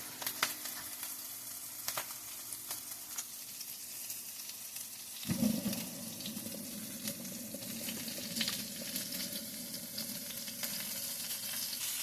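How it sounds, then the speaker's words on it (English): Sausage sizzling and frying in a pan for homemade sausage gravy and biscuits, a steady close crackle that swells louder partway through and keeps going with no talk. "Fry this from 12 minutes, 6 minutes on each side"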